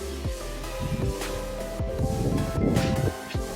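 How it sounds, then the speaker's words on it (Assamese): Strong wind gusts across an outdoor home setting, blowing steadily as a broad rushing noise with rustling bursts, moderately loud throughout with no talking. "মোৰ ইমান বতাহ মাৰিছে আজি"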